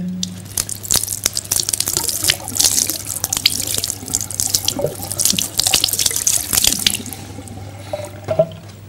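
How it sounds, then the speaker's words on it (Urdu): Water is poured steadily from a container as if from a pipe during ablution, splashing and spattering continuously with scattered drips. It is loud and close, with no voices. "آپ یہ فرض کر لیں کہ یہ پائپ کا پانی ہے"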